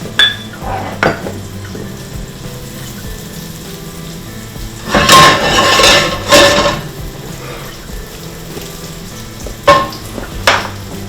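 Dark cherries sautéing in nutty browned butter in a hot pan: a soft, steady sizzle with louder bursts of crackle and spatter as the fruit is tossed, plus a few light clinks of utensil on pan.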